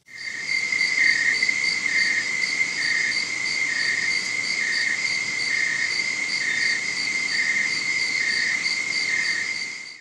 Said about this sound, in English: Here's Night from Ambient Sounds.